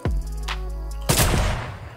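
Sniper rifle shots in the video game Fortnite, in a sniper-only mode: a sharp, loud report opening the clip, then a second heavy crack about a second later with a ringing tail, no talk.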